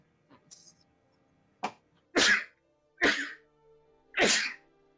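A person in a tabletop role-playing session sneezes several times in a row. A few short, sharp bursts come close and fairly loud, separated by brief pauses in an otherwise quiet room.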